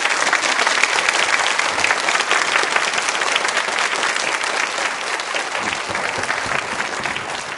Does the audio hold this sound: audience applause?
yes